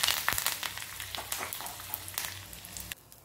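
Green chillies and curry leaves tempering in hot oil, a steady close sizzle and crackle that stops abruptly near the end.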